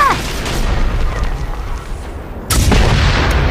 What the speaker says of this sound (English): enemy called in a napalm strike!